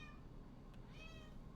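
Faint meows from a house cat, a couple of soft rising cries with nothing else audible over a steady low background hum.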